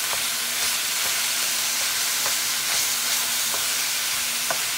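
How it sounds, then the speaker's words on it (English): Ground meat frying in a pan for enchiladas, a steady loud sizzle with occasional faint taps of a utensil stirring and chopping, no voices. "As you can hear, it's frying real good."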